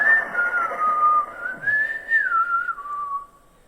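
A single person whistles a slow, wavering tune up close, the pitch rising and falling smoothly before fading out at the end.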